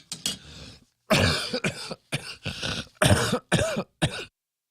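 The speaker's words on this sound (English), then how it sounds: "I've got a cough again today, and I can't help but cough into the microphone." Repeated harsh coughs in quick bursts, close and loud, with short pauses between fits and no talking.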